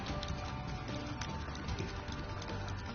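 Horse hooves clip-clop in The Binding of Isaac game, a quick, even patter of small taps running steadily throughout at moderate, slightly muffled loudness.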